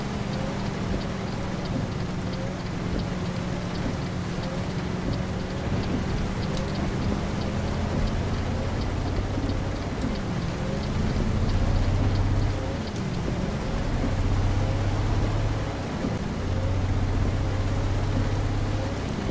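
Steady rain pours in Euro Truck Simulator 2, a dense, even hiss of drops with a low engine drone beneath, continuing throughout without pause.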